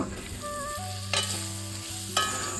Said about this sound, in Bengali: পটলটাকে বেশ ভালোভাবে ভাজা ভাজা করে নেব